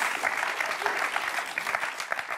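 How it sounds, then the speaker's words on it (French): Steady applause from a quiz show studio audience, dense clapping filling the whole stretch at an even level with no voices on top. "On peut applaudir Michel parce que ça c'est un point fort."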